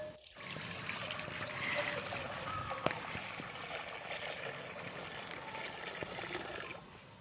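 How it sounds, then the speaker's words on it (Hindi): Water pours steadily into a cooking pot hung over an outdoor fire in the jungle, a continuous trickling and splashing that runs close and fairly loud for several seconds without talk. "और फिर इसके अंदर डाल देंगे पानी"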